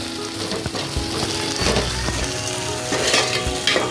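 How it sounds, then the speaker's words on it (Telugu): Soya chunks (meal maker) fry in hot oil until golden and crunchy, a steady close sizzle with stirring scrapes and a few clinks of a utensil against the pan. "కొంచెం గోల్డ్ కలర్ వచ్చేదాకా కొంచెం వేసుకోవాలి, ఫ్రై చేసుకోవాలి."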